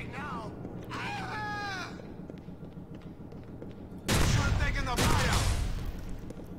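Gunfire from the Grand Theft Auto IV video game erupts in loud, dense blasts after a stretch of quieter game sounds, with a voice talking over the early part.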